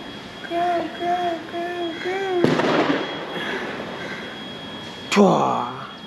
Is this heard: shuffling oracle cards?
no